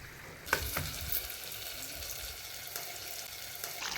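Chicken pieces sizzle and fry steadily in a pan, with a sharp burst of crackle early on and a continuous close hiss throughout, alone without any voices.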